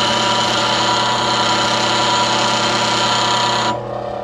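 Bench grinder sharpening a wood lathe turning tool, a loud steady whining motor hum with a bright grinding edge, running evenly close by before dropping abruptly near the end as the contact stops.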